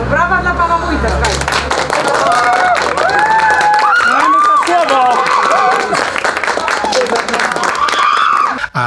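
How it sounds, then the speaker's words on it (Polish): Villagers in Żegocina applaud and cheer for the local mayor. Crowd clapping and cheering stay loud and close throughout, with prominent voices and sung or called-out tones layered over the applause. "to brawa dla pana Wójta."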